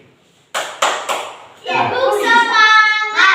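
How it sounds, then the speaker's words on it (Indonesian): A class group starts a rhythmic spirit clap in a classroom, a few sharp separate claps followed by children chanting together in unison, loud and close. "Sekarang kelompok 1 tepuk semangat sendiri"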